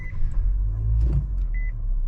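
A 2023 Nissan Versa is push-button started and settles into a steady low engine rumble inside the cabin, with a couple of thin electronic chimes beeping over it. No one speaks.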